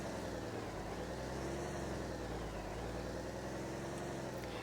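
A heavy truck engine in the game Truck World Australia drones steadily at low pitch, a constant rumble with a faint whine rising and falling above it.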